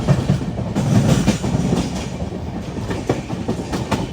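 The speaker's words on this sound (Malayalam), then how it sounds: "ട്രെയിൻ ഇപ്പോൾ താമ്പരം റെയിൽവേ സ്റ്റേഷനിലേക്ക് എത്തിയിരിക്കുകയാണിതാ" A passenger express train rumbles along the rails past Tambaram railway station without stopping, with a rhythmic clickety-clack of wheels over joints, steady and close, with no voices.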